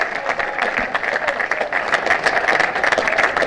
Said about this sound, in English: it's a tremendous round of applause